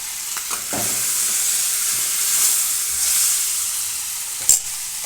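Food stir-frying in a pan, seasoned with salt and chili powder, gives a loud, steady hiss and sizzle throughout, broken by a few sharp utensil clacks from stirring and mixing, with no talk.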